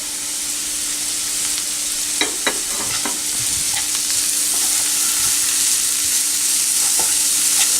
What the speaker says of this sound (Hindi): इन चीज़ों को इकट्ठा ही ऐड कर देंगे और इसको भी फ्राई कर लेंगे।